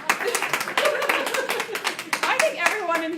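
An audience claps together in a dense, steady patter of hands throughout, fairly loud and close, with voices mixed in underneath.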